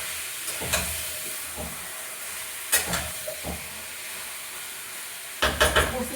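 Meat is sautéed in a pan while being stirred. Quiet background hiss is broken by short, sharp sizzling bursts at irregular intervals, the loudest cluster coming at the end.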